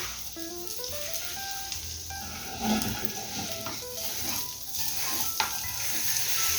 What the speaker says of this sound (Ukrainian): Кожний млинчик я обсмажую окремо.